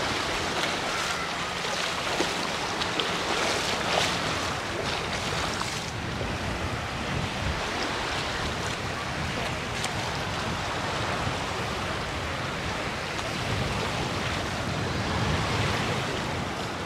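Sea waves wash steadily onto a beach near Alcúdia port in Mallorca, a constant broad surf roar mixed with gusty wind buffeting the microphone, with no clear voices.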